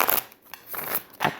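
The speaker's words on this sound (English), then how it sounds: "let's start the other shuffle now" Tarot cards are shuffled in several quick papery riffles and slaps, close and crisp, with short pauses between bursts and no talking.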